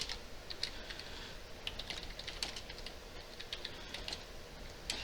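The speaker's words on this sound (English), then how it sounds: "So just going to type that in." Steady typing on a computer keyboard while entering a citation source, with quick, fairly even keystrokes close to the microphone, continuing throughout with brief pauses and no talking.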